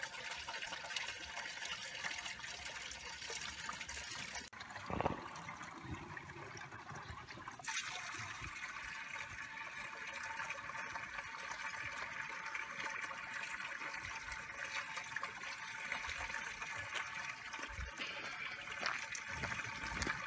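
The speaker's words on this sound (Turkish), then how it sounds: "Güzel bir su akıyor arkadaşlar." Water flows continuously outdoors on a hilltop, a steady trickling and splashing that goes on throughout at moderate volume, with a brief louder splash early on.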